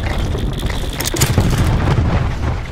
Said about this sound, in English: I'm gonna throw another grenade, see if he's still camping.